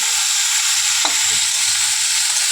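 Fish curry with flat beans and potato frying in a pan, a loud, steady sizzle with a brief scrape of stirring partway through, close and without talk.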